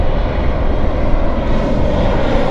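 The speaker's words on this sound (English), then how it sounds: "that is a Beech 1900 that just came in right over my head" A Beech 1900 turboprop landing directly overhead at Vancouver Airport, a loud, steady broadband engine and propeller roar that holds at close range throughout, with no talk.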